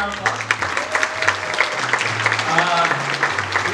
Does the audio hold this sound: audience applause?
yes